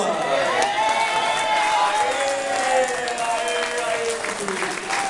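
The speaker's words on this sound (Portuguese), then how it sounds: "Muito bem, uma salva de palmas." Applause and cheering from a crowd at a traditional dinner event, sustained and fairly loud throughout, with voices mixed into the noise.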